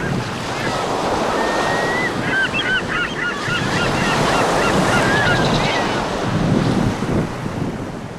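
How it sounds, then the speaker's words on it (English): Sea surf rolls and breaks along the Baltic coast of Germany, a loud continuous roar of waves with wind buffeting the microphone, while geese honk in a chattering flock partway through. "the sounds of the sea really, but also more subtle sounds of nature like the frogs croaking and the birds singing"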